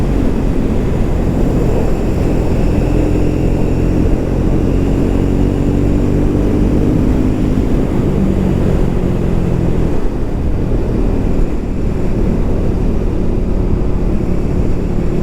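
Triumph 400 motorcycle engine running steadily while riding along a road, a continuous loud low drone with wind rush and slight shifts in pitch, no talking.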